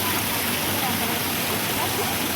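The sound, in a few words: water fountain splashing in a park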